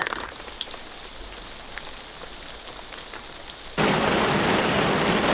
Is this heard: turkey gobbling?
no